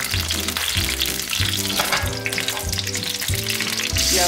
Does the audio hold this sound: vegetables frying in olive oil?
yes